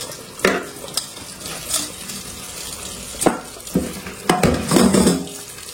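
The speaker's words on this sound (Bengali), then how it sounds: "ভালো করে এটা হালকা হাতে একটু ধুয়ে নেবে স্ক্রাবার দিয়ে" Electric rice cooker parts washed by hand with dishwashing liquid and a scrubber: intermittent close clunks and scrapes of pot and metal pieces, with splashy water and rubbing in uneven bursts.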